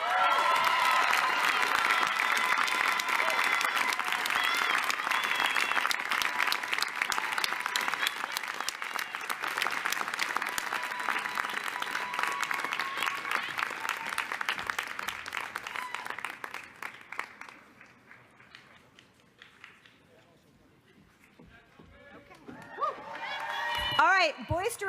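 A large crowd applauds loudly and steadily for about fifteen seconds, then the clapping thins and fades to near quiet before a brief stir at the end.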